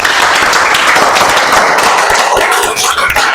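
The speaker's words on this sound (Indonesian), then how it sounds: "Berikan tepuk tangan dulu" Applause from a classroom audience after a student presentation on sorting algorithms, dense, loud, steady clapping from many hands that carries on for the whole stretch before thinning slightly at the end.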